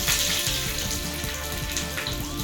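Dried red chillies and curry leaves sizzling in hot oil with mustard seeds for a rasam tempering, a loud, dense, continuous crackle close up, with no voices.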